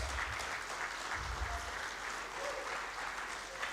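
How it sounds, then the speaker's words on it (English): Faint, steady applause from the audience at a 2023 model legislative assembly, a continuous soft patter of many hands honouring the coordinating team, heard from a distance. "give a standing ovation and a resounding applause to the team that coordinated what culminated here"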